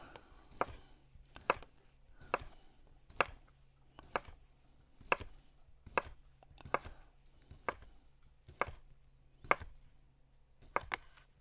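Sausage for chicken and andouille gumbo being sliced with a knife on a board: about a dozen crisp, close chops land at a steady, unhurried rhythm, each a sharp knock separated by brief quiet.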